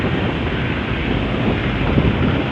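Steady, rushing wind buffets the microphone on a ship's deck near the Amazon forest, a broad constant roar with faint wash of water beneath, no voices.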